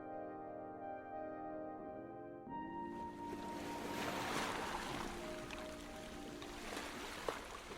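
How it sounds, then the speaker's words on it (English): A large open lagoon ripples softly. Sustained gentle tones give way to a soft, broad, continuous wash of water, with a faint knock near the end. "A massive, open oasis of water stretching hundreds of feet ripples softly"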